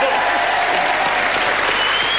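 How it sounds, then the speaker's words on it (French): A studio audience at a French TV game show breaks into dense, sustained applause, loud and even throughout, a steady wash of many hands with no pauses. "C'est qu'on les applaudisse tout de suite"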